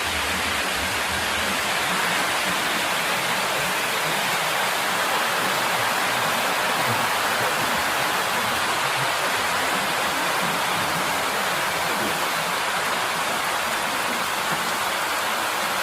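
Heavy monsoon rain pours steadily at Sinhagad fort, a dense, continuous hiss of downpour that stays loud and even throughout, with no voices.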